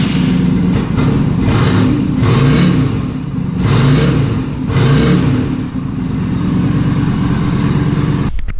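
A small engine that has just had an exhaust leak repaired runs close by with a steady, loud idle, punctuated by several brief revs that rise and fall, before cutting off abruptly at the end.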